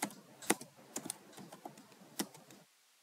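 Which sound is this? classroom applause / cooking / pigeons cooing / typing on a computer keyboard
typing on a computer keyboard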